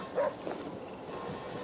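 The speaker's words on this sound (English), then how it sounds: "Your dog's barking at something." In a survival video game, a dog gives a few short yipping barks, mid-distance and fairly quiet, over a low ambient background.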